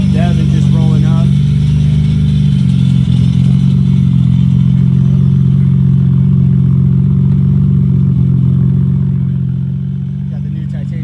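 A Nissan GTR with an RB26 engine and a new titanium exhaust rolls up, its loud steady low rumble idling close by and easing off slightly at the end.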